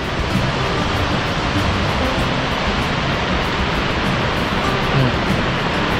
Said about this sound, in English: You can hear the fall right now.